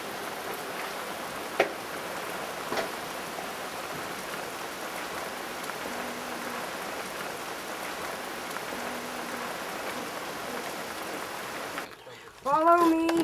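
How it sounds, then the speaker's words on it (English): Steady rain falling outdoors, a broad even hiss throughout with occasional louder drops, ending with a brief voice-like sound. "it's raining right now"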